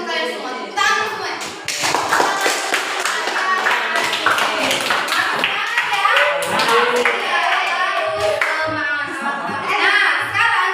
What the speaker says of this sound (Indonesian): Nah sekarang silakan kita beri apresiasi untuk kalian semua. Tepuk tangan semua.